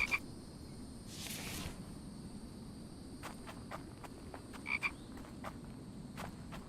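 Frogs croak in the survival game The Infected, repeated short raspy calls in irregular bursts, fairly faint over a steady outdoor ambience, with soft footsteps and no talk.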